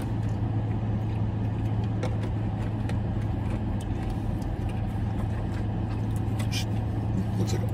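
A car drives along with steady road and engine noise, a constant low hum with wind and tire rumble filling the cabin and no talking over it.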